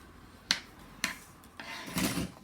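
Paper is scored with a tool down the side for a junk journal pocket, giving a few short, quiet scraping strokes, close and soft, with a slightly longer rasping pass at the end.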